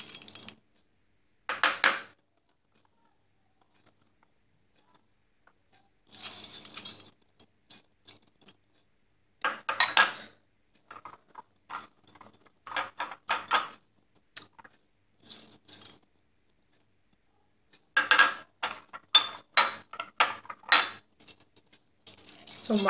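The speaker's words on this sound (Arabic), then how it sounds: "ثم كنبقاو مستمرين في التحريك." A spoon stirs rice into a healthy chicken salad in a bowl, making close, crisp clinks and scrapes in short bursts separated by quiet pauses. No one speaks.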